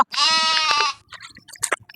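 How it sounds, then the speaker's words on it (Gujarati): A goat bleats once, loud and close, a sustained wavering cry lasting under a second, followed by scattered clicks and handling noises in a village setting. "આ બકરી પકડો."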